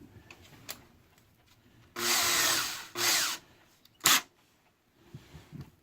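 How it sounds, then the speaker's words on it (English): A power drill whirs in two loud bursts while fitting screws in a boat's bilge, then a short sharp clatter, with quiet handling noises before and after. "the right drill bit"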